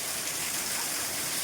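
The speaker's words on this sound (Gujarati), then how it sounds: "મેહુલો આવી ગયો, પવન સાથે વરસાદ." Heavy rain driven by wind, a dense, even broadband hiss of downpour without break, moderately loud and continuous.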